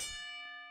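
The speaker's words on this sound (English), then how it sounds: "And there's the bell." A ring bell at a UFW professional wrestling show gives one bright metallic strike that rings on with a slowly fading tone.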